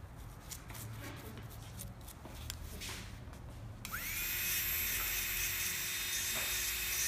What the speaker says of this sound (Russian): Сейчас я поменяла на фрезу с алмазным напылением.